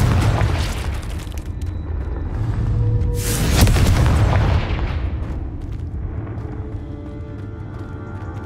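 A Confringo spell explosion in Hogwarts Legacy: a booming burst with a crackling blast near the middle, set in a dense, rumbling battle din with no voices.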